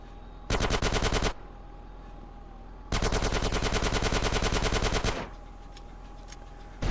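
Loud rapid bursts of automatic gunfire blasting a car in GTA San Andreas: one short volley, a brief pause, then a longer sustained burst, with no talking.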